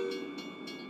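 Under a second of a tank train passing at close range in Artesia, New Mexico: a continuous rumble with brief, evenly spaced clacks from the wheels.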